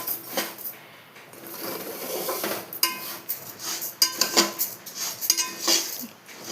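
A spoon stirs and scrapes food around a cooking pan, making close clinks and rasping scrapes in an uneven rhythm, with no voices.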